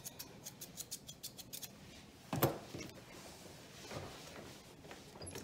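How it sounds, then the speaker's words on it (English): Thinning scissors trimming the coat of an English Springer Spaniel during show grooming, with a run of quick, soft, evenly spaced snips, then a single louder scrape and faint rustling afterward. "We'll just take the thinning scissors"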